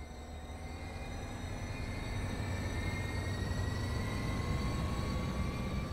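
Steady, continuous rumble inside a double-deck gallery passenger car on a southbound Caltrain service on the San Francisco Peninsula Corridor, Train Sim World 2, with low track and wheel drone and faint tonal whine, even and unbroken throughout.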